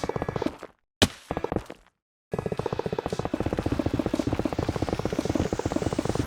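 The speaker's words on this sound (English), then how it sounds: "Now we can destroy this ugly bridge for the final time." Blocks of a bridge are broken in Minecraft with a rapid, steady run of short thudding hits, briefly stopping, then resuming as a dense mechanical patter until the end.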